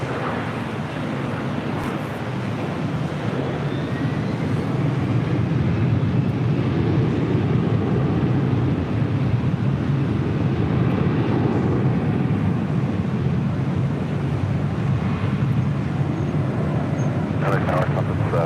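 A jet airplane taxiing toward the runway for takeoff at LAX, a steady, broad, rumbling engine roar with wind noise lasting throughout, fairly loud and continuous with muffled voices underneath.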